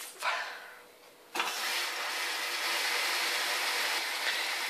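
A Hotpoint WMYL 8352 washing machine starts a 40-degree synthetics wash with an 800 spin, giving a brief whoosh, a short lull, then a sudden steady rush of running water that holds evenly to the end.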